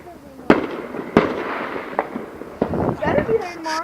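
Fireworks or firecrackers going off outdoors in a yard: several sharp loud bangs at irregular intervals, followed by crackling and whistling bursts, with people talking and reacting in between.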